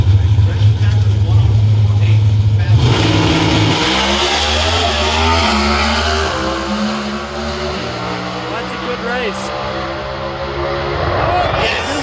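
A Pro Stock drag racing car at the U.S. Nationals eliminations launches hard, its loud engine roaring and then fading as it pulls away down the track, with a commentator talking over it.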